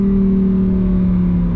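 A Lamborghini Huracan Tecnica V10 holds a steady, loud drone with a strong even tone, the exhaust valves still closed at low revs, heard alone from inside the car.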